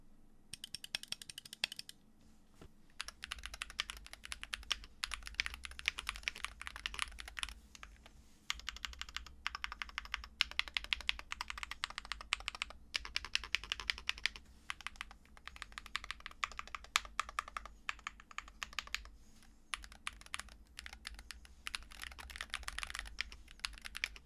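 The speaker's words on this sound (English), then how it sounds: "Now the stock switches sound surprisingly good compared to many stock switches I've tried" Steady typing on an Akko MOD68 HE magnetic-switch keyboard with stock switches, soft muted keystrokes clicking in quick continuous bursts, close up with faint background hum.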